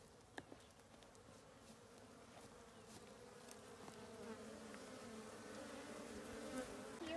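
Steady buzzing of many honeybees in Wenatchee, a low drone that swells slightly louder over time, with occasional individual insects passing close by.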